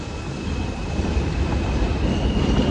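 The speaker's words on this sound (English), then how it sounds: "I gotta go on a J train right now." A J subway train arriving at a station produces a dense, steady rumble with a thin, high metallic squeal running throughout, loud and close, with no talking.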